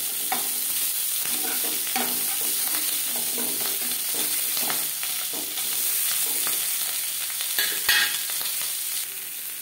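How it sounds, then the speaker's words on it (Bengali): Pieces of rohu fish fry in a pan with a close, constant crackling sizzle and scattered sharper pops throughout, a steady bed of frying noise with no voices. "এভাবে একটু একটা সাইড ভাজা হয়ে গেলে অপর সাইডটা উল্টে দেব।"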